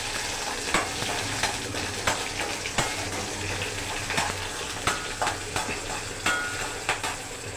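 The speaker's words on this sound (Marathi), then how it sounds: "सन्न मिरची टाकली." Chillies tempering in hot oil for a dhokla, a constant close sizzle broken by regular spoon scrapes and taps against the pan roughly every half second to second.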